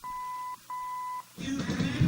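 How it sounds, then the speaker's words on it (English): Two sustained electronic confirmation beeps from a 1968 Chrysler AM car radio, steady and even, followed by a burst of louder mixed noise. "There's our 4 beeps."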